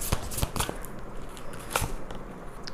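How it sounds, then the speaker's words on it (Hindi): Tarot cards drawn from a deck, heard as a few quick papery slides and flicks near the start and one more later, close and soft, over a faint room hiss without speech. "पहले मैं कार्ड्स निकाल लेती हूँ।"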